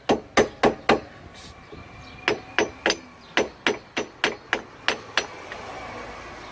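Hammer blows on a Jeep Cherokee XJ drive shaft with U-joints: sharp metallic strikes in a quick burst of five, a pause, then a steady run of about ten more, close and loud with no talk.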